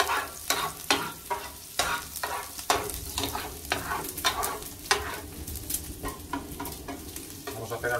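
Cuttlefish and squid frying over high heat in a pan for black rice, with a steady loud sizzle broken by repeated sharp scrapes and clacks of stirring, alone with no voices.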